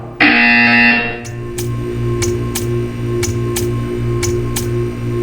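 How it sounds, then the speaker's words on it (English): A loud electronic buzzer in Portal 2 blares for about a second, then a steady run of sharp ticks continues over a low hum. "You will hear a buzzer."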